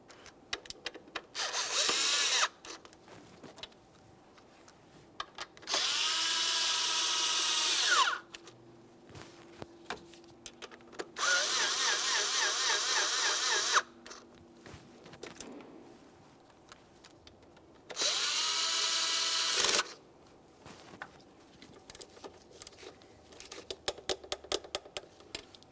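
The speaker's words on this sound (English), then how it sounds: "Let's go ahead and snug them up in a crisscross manner." Power tool snugging the bolts of an oil pressure switch bracket on a 2008-2017 Mitsubishi Lancer, three sustained whirring bursts of several seconds each separated by clicks and small clanks, close by, no voices.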